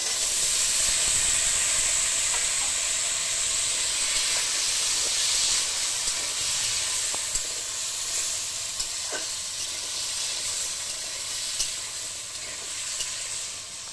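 Potatoes frying in a hot pan give a steady, loud sizzle and hiss that carries on throughout, with occasional faint clicks of stirring and no talking.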